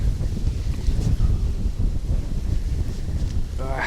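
Strong wind buffets the microphone beside a small river during November pike fishing with a spinning rod, a dense, steady low roar that fills all four seconds without letting up.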